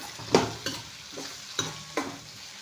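Tomatoes sauté in a hot pan while a spoon stirs them, giving a soft steady sizzle broken by four or five distinct scraping strokes at an uneven pace, close up and with no talking.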